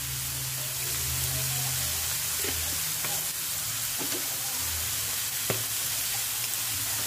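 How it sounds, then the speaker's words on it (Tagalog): Beef and pepper for papaitan are sautéed in a pan with a steady, moderate sizzle and frying crackle, with occasional light stirring scrapes and clicks throughout. "Igisa-igisa ulit."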